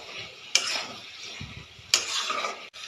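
Spinach and mushrooms hit hot oil seasoned with panch phoron, salt, turmeric and green chilies in a pan, giving two sharp bursts of sizzling separated by quieter stirring and scraping close by.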